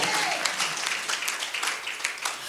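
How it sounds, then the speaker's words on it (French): A church congregation applauds during a service, with a dense, sustained burst of many hands clapping close by and a voice faintly underneath. "And you applaud for the glory of God."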